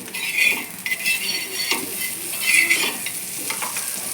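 Butter sizzles and crackles steadily on a hot griddle for pav bhaji, with occasional scraping and stirring clinks of a utensil.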